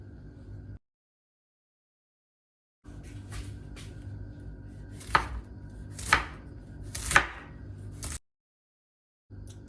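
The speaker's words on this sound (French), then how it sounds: "Les carottes, je les taille en julienne." A knife cuts carrots into julienne strips on a cutting board: three or four distinct, close chopping thuds spaced about a second apart over a quiet kitchen hum, with short silent gaps.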